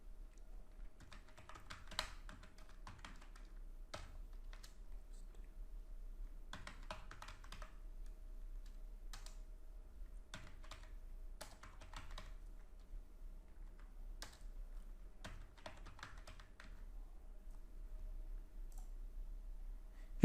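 Keywords are typed on a computer keyboard in quiet, scattered bursts of clicky keystrokes with short pauses between runs, close but soft.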